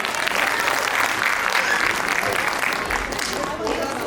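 An audience at a stage event claps steadily and loudly throughout, a dense continuous wash of applause from a large crowd nearby, with no clear speech on top.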